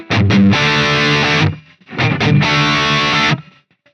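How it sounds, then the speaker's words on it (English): Two short bursts of heavily distorted, dry, effects-free electric guitar in a 1990s style tone on a Quad Cortex, each a few quick picked notes then a held chord, cutting off with abrupt silences. "If we turn off the effects, we can hear the dry output here."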